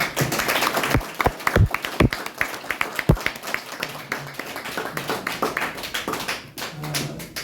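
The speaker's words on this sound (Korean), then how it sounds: "다시 한번 좀 아주 진지하게 귀한 시간 만들어 주신 강사님에게 박수 한번 드립니다." A seminar audience claps for a lecturer, with sharp irregular hand claps building into scattered applause that fades, heard close in a room.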